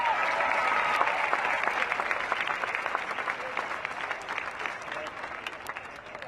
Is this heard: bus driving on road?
no